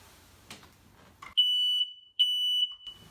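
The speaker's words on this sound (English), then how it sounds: "make sure that you check your fire alarms monthly" A household smoke alarm is tested, giving two loud, piercing, steady beeps of under a second each, separated by a brief gap, after some faint background clatter.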